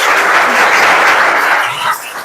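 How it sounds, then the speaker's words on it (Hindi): An audience breaks into loud, dense applause for a talk about the freestyle athlete Shivam Patel. The clapping is continuous and close for about two seconds, then eases slightly near the end. "तालियां होनी चाहिए भाई।"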